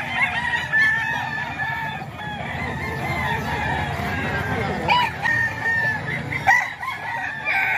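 An eight-month-old Lemon Sweater gamefowl rooster crows near and loud, with clucking and other fowl around it in a farm yard.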